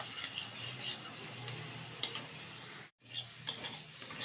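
Potatoes cooking in a pan with turmeric and spices fry with a soft, steady sizzle as they are stirred, with light clinks of a utensil and a brief drop to silence; no voices.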